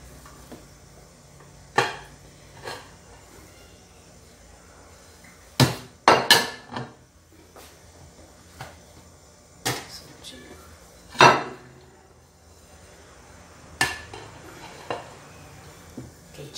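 A hot corn cake is knocked out of its metal baking pan, with a scattered series of sharp metallic clanks and taps, some in quick clusters, separated by quiet pauses.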